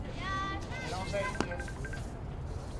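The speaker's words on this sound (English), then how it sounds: "Someone's getting a phone call down in the stands." A phone rings among spectators in the stands at a college softball game, a faint tonal ring under the crowd murmur and ambient stadium noise.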